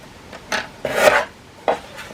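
Paper being trimmed to size for stamped cards makes short scraping, rasping strokes at close range, with three or four separate swipes and quiet gaps between them.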